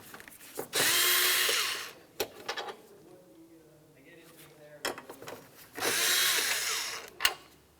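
Power tool spinning out two 8mm headed bolts under a plastic panel on a Ford Flex, two loud whirring bursts separated by a pause with light clinks and handling noises.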